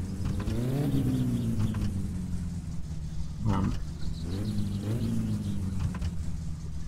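Satsuma car engine in My Summer Car idling and pulling out of a garage, a steady low rumble with a couple of rising revs and a brief clunk midway, with no talking over it.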